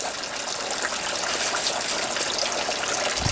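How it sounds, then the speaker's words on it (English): Water from an aquaponic grow bed filled with perlite drains through a siphon and drips back into the tank, giving a steady splashing trickle with an even hiss throughout. "that's where the water will drip down, back down to the tank"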